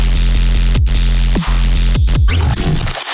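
Loud, dense synth distorted with a Defacer plugin, with a gritty, buzzing low end and rhythmic pulses, sustained throughout with no talking.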